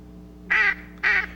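Ducks quacking near a hunting blind set up in the trees: two loud, close, drawn-out quacks about half a second apart, with a quiet background.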